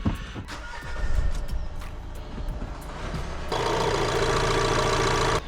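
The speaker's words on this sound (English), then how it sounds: "Let's give the van a start." Engine of a van in the video game Taxi Life, heard cranking and catching, then settling into a steady, louder idle drone that continues to the end, with no talk.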